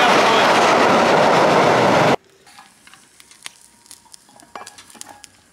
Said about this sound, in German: Zug kommt und